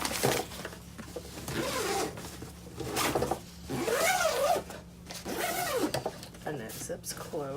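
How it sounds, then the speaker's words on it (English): A zipper on an IKEA storage item is pulled closed in several long ripping strokes, close and loud, alternating with a person talking. "And it zips closed."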